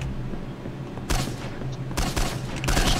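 Gunfire bursts during a video game firefight, with loud broadband volleys around the one-, two- and two-and-a-half-second marks over a steady background rumble.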